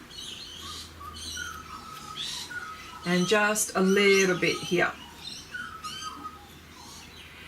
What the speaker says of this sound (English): Can you all hear the birds?